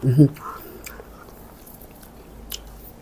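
Someone chews and bites into a Thai fish dish, som pla noi, with soft close mouth sounds, a brief louder burst at the start, then quiet intermittent chewing.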